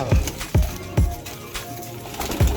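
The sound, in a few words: Habshi pigeons cooing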